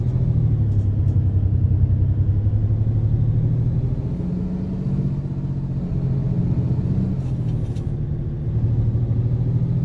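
Mack RS700 truck from American Truck Simulator (Rubber Duck mod) driving, its steady low engine rumble running continuously and fairly loud, with slight dips and swells in level and no talk.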